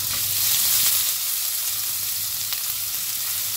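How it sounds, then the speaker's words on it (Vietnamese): Shallots and ginger frying in hot oil, a bright steady sizzle close by with a few small pops, no talking. "Khi mà dầu đã nóng rồi thì các bạn sẽ cho cái phần hành và gừng"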